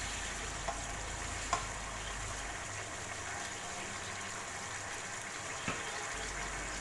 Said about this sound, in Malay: Kacau rata.